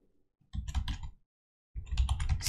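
Quick bursts of keystrokes on a computer keyboard as a terminal command is typed, two short clusters of close, crisp clicks separated by a brief pause.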